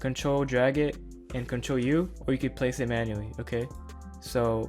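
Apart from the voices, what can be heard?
No everyday noise stands out behind the speech.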